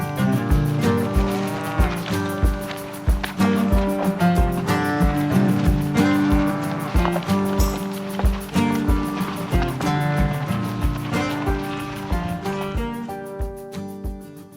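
A large herd of cattle in a wet meadow, where one calf walks down the middle, moos continuously, with many overlapping calls near and far forming a loud, dense chorus throughout.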